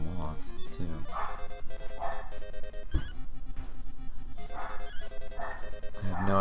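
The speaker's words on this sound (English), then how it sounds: "No idea what my dogs are going so crazy about." Dogs barking in a Dragon Warrior III game playthrough, scattered yips and barks mixed into steady game music, with people talking throughout.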